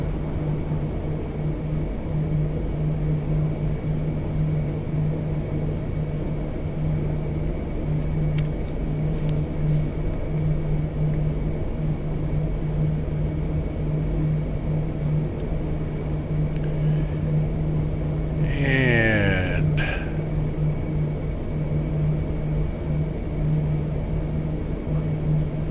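Four turboprop engines of a Lockheed C-130 in the X-Plane 12 flight simulator idle with a steady, droning hum and a constant low tone. A brief rising whine sweeps through near the end.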